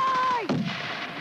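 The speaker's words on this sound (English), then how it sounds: "Grenade!" A grenade exploding during an infantry fighting patrol exercise: a descending whistle gives way to a sharp, loud blast that leaves a lingering rumbling tail.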